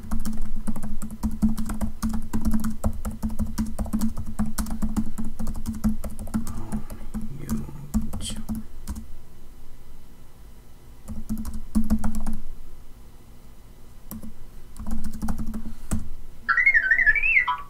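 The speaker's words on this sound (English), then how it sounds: "I'm just typing a few things real quick before I explain the summary." Rapid clicking of keys on a computer keyboard fills the clip, typed in bursts with short pauses, close and fairly loud, with a brief whistle-like tone near the end.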